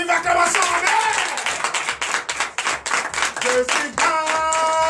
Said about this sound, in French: En même temps, donnez de vive acclamation.